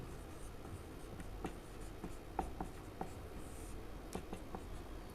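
A pen writes a word in Hindi shorthand, with faint, scattered scratching strokes and light taps over a steady hiss of room noise, and no one speaking.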